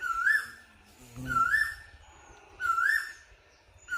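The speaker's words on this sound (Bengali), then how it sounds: "কোকিল ডাকতেছে" An Asian koel calls three times at steady intervals, a clear rising whistled note each time, fairly close, with a quiet, sunny outdoor background between calls.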